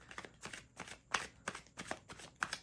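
Tarot cards being shuffled in a steady run of crisp riffling bursts, about five or six quick rattling passes, close and fairly loud with no talking.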